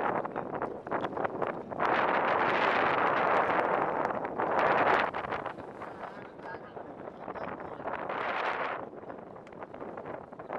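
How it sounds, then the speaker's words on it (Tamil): Strong wind gusts roar across the microphone on a sailing fishing boat out at sea under sail without the engine, rising in loud surges with gentler stretches between, with faint voices now and then beneath. "காற்று அதிகமாக இருக்குது"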